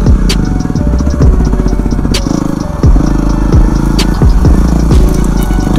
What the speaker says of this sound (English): There's my WR250R.